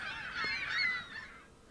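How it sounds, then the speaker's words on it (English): Geese honk outdoors in a brief burst of overlapping calls, moderately close, fading away at the end. "Do you hear the birds?"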